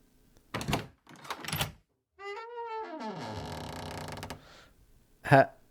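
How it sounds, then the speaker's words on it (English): A wooden door in a sorcerer's home creaks open with a long, wavering groan, then slams shut with one sharp, loud thunk, after some faint rustling and footsteps. "I'm sorry about slamming the door in your face"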